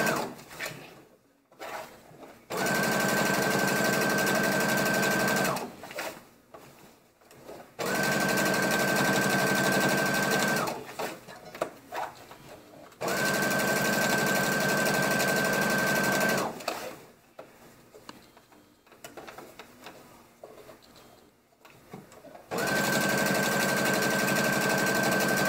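A sewing machine hems a pair of high-waisted shorts close to the edge over a double-folded seam allowance, running in four long, steady, loud bursts separated by short pauses with handling noise.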